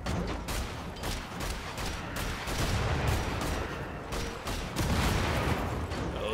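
Gunfire and explosions in the video game Wolfenstein The Old Blood, rapid irregular bursts of shots and booms, moderately loud and continuous for several seconds with no talk.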